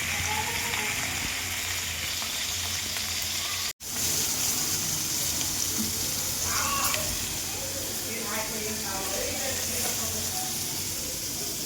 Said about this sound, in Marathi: तीन मच्छी तळवल्या तीन टाकल्यात आणि हे तोंड नंतर तळवायचे